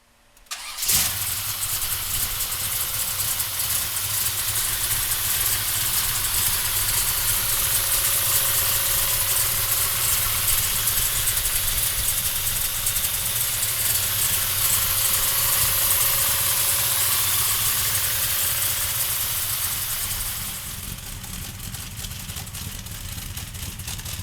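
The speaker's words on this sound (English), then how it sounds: "So come on up and we're gonna fire this beast up." A 1967 Chevrolet Chevelle cranks and catches, then holds a loud, steady, rumbling idle for about twenty seconds before the sound drops slightly.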